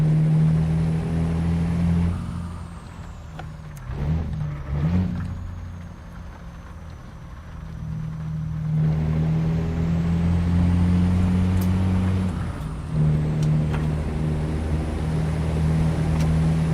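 A truck's Jake brake in American Truck Simulator, a loud, steady low engine drone that drops away for a few seconds midway and then returns strong and close, without talk.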